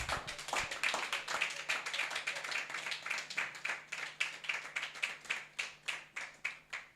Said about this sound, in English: A round of applause for Doctor and Barrister.